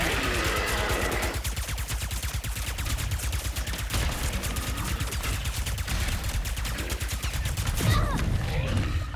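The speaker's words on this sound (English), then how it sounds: "Why are you guys still shooting me?" Enemy gunfire in Ratchet & Clank: Rift Apart comes as a dense, continuous stream of rapid shots and blaster bursts, loud and close, with a brief shift in texture near the end.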